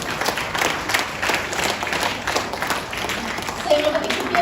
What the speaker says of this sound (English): So let's give a round of applause to the lady